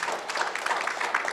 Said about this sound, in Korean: 총장님 세 분께 박수 한번 보내주십시오